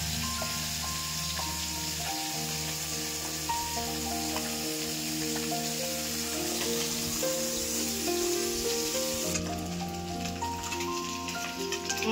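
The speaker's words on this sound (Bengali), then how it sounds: "মাছটা ভাজা হোক" Small puti fish sizzle steadily in hot oil, a constant crackling hiss beneath soft background music.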